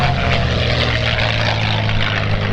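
A Rolls-Royce Merlin piston aircraft engine roars at the First State Air Show 2024. The propeller drone is loud, steady and continuous throughout, with no speech.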